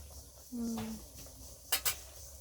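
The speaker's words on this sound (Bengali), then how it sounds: "এটারে ঢাকনা দিলাম" A metal lid set down on a cooking pot of vegetarian curry with water added, giving a short scrape and then two quick clinks, fairly quiet in a calm kitchen.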